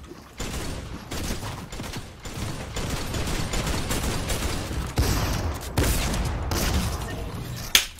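Rapid bursts of video game pistol fire crackle continuously, sharp shots layered over a busy, dense mix with a louder crack near the end.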